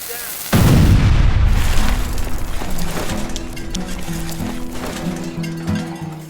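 An explosive blast goes off in a coal mine, a sudden loud boom that rolls into a long decaying rumble, with voices and bustle continuing underneath.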